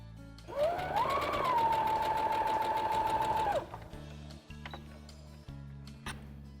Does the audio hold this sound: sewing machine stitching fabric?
yes